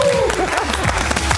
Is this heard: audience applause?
yes